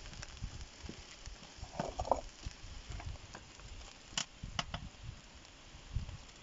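Beaver meat boiling in its own juices in a kazan, a faint steady bubbling and soft crackling with a few small clicks, heard close up with no talking.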